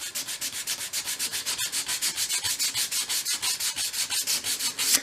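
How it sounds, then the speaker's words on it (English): Folded sandpaper rubs paint off a 1/12th scale model shop piece in quick, even back-and-forth strokes, close and steady for several seconds with no voices. "at those corners you could sort of make a fold with your sandpaper"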